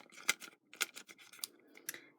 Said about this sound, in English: I just use my scissors and I cut it up.